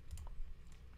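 A few quiet keyboard keystrokes tapping in a short, uneven burst, faint and close.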